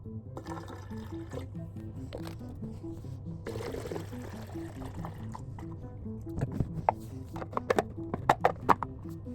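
Liquid is poured into the water tank of an Eight Sleep bed-cooling unit indoors over a rug, a steady splashing pour that grows choppier and louder toward the end, with no talking.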